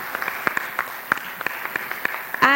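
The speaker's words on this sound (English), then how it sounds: "give another round of applause for the men who have been supporting this event" An audience claps at a women's summit, a thin patter of separate claps at a steady rhythm, fairly sparse and moderately close.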